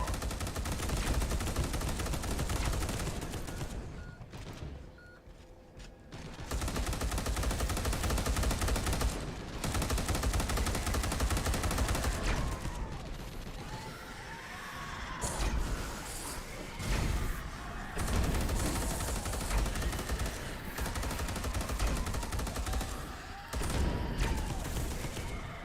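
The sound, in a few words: gunfire from squad shooting enemies in Space Hulk: Deathwing video game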